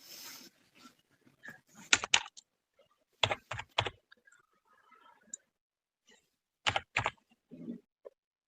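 Number being typed on a computer keyboard during a payment setup, heard as short bursts of sharp clicks in three clusters separated by pauses, with faint background noise between them.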